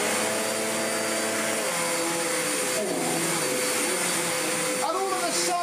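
A refurbished Hoover Enigma vacuum cleaner runs on the floor with a loud, constant motor drone and a high whine whose pitch shifts slightly as it is pushed along.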